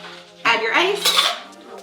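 Ice poured into the metal tin of a three-piece cocktail shaker, a loud close burst of clattering and clinking cubes lasting about a second, alone without voices.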